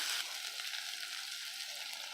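Spices temper in hot oil for an agathi kai (sesbania pod) poriyal, giving a steady, even sizzle that holds at a constant level throughout, with no voices.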